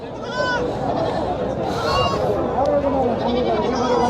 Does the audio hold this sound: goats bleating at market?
yes